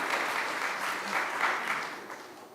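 Audience claps at a school graduation parent tribute: brief, steady, moderately loud applause from a room full of people, gently swelling and easing off.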